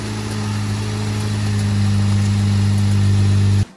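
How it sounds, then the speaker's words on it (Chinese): A crash-damaged ninth-generation 2015 Honda Civic Si engine idles steadily and loudly with a deep, even hum, its pulley rubbing against a pushed-back hose, before cutting off abruptly near the end. "钻进驾驶室开始打火"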